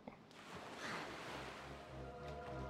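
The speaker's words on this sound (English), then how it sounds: "These waves are not being kind to me." Ocean waves in The Legend of Zelda: The Wind Waker HD, a faint, continuous wash of surf with a low swelling rumble.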